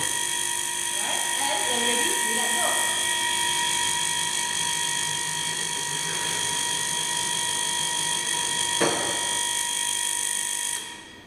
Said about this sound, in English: Switch on the ticker timer first before we release the trolley.